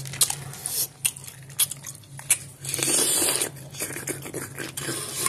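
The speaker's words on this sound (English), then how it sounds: "Let me make sure y'all get some good eating sounds like that" Close, crisp crunching bites followed by wet chewing and smacking, heard up near the mouth with no talking.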